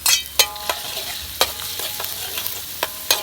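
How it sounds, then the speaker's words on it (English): Garlic frying for a Khmer stir fry, a close sizzle punctuated by sharp, regular clanks of a utensil against the pan. "we started to make a stir fry. Right, put the garlic in it"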